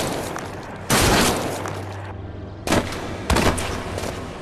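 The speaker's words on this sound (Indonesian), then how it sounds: "dan tak lama Kim Eun-jae menodongkan pistol dan menembaknya." Three sharp pistol shots ring out over background music in a Korean drama, one loud crack followed by two more after a pause.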